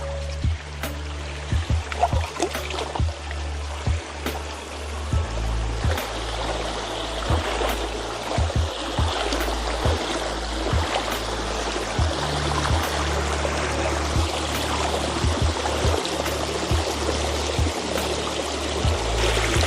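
A creek flows over rocks and past massive boulders on a back-country hike, a continuous near rushing and trickling wash under a low engine-like hum.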